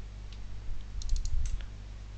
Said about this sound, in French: vous cliquez sur le dossier et ça ouvre